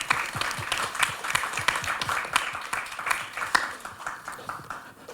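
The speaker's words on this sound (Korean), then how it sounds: "여러분 박수 한번 부탁드릴게요" Steady audience applause at the press launch for the MBC drama 'When I'm Sad, I Love'. Many hands clap at once, dense and even, then taper off slightly toward the end.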